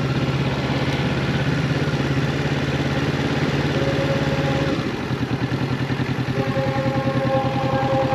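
A Kawasaki Z650 motorcycle engine runs steadily up close with a throbbing idle note, then the pitch and rhythm shift partway through as the revs change, with no talk over it.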